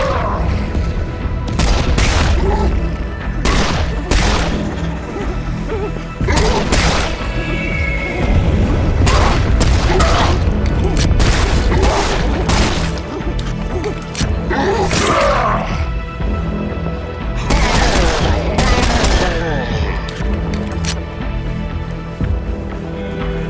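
Heavy gunfire from the Serious Sam 4 shooter game, with loud repeated blasts and booming impacts scattered over a constant roaring battle din, intense and close throughout.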